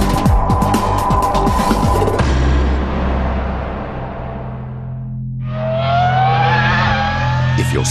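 A loud 2004 Formula One racing car engine roars and shifts pitch, dropping away before revving back up to a high, sustained whine.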